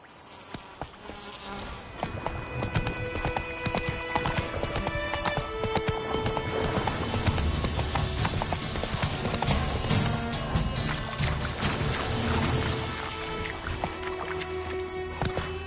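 Hooves of Roach, the horse in The Witcher III: Wild Hunt, clop steadily beneath a busy layer of game music and ambient buzzing, rhythmic and moderately loud throughout.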